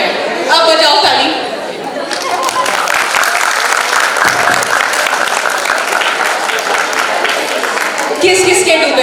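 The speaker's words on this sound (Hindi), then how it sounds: "अब बजाओ ताली।" Students at a financial literacy workshop break into sustained applause that fills most of the stretch, mixed with crowd chatter, with speech heard briefly at the start and end.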